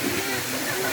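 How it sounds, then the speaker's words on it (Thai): The Thi Lo Su waterfall rushes in a steady, dense roar of falling water, close and loud throughout with no break. "ข้างบนมันเป็นน้ำตกทีเราสู่"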